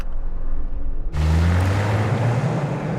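A Suzuki Jimny in manual gear drag racing off-road against a Jeep Wrangler and a Bowler Bulldog: steady roaring engine noise that surges abruptly and loudly a second in, then holds a rising drone with wind rush, close and without talk.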